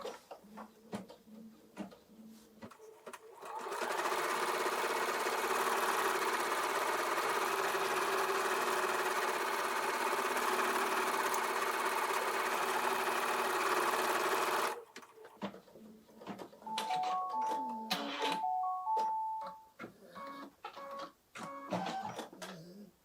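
Home embroidery machine stitching the outline of a fabric star, a loud steady mechanical whir for about ten seconds, bracketed by softer clicks, beeps and handling noises.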